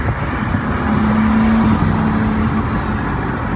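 A 2023 BMW M3 engine, untuned, revs up and holds a steady droning tone for a couple of seconds before easing off, loud and close.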